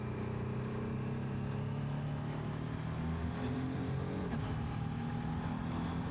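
A BMW F450GS motorcycle engine drones steadily at about 5,000 rpm with a shifting tonal hum, rising slightly in pitch through quick-shifter gear changes, under continuous wind rush and road noise.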